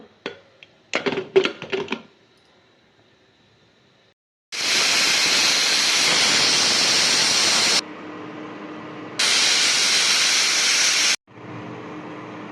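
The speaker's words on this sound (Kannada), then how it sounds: "ನೋಡಿ, 3 ವಿಸಿಲ್ ಬಂತು." A pressure cooker with tomato dal inside lets out loud, hissing steam whistles, two long blasts separated by a short gap, after some earlier clattering, and then a softer hiss fades in.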